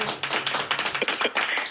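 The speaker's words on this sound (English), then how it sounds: "That should have been filled with some applause." Scattered, thin clapping from a studio audience on a talk show, arriving in uneven bursts at moderate level with no voices over it.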